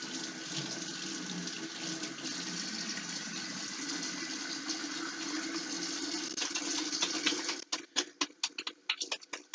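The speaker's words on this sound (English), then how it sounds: "So now I am going to wash my hands well using proper hand washing technique." Tap water runs steadily into a sink during hand washing, a continuous close splash that breaks into choppy, irregular bursts near the end as hands move through the stream.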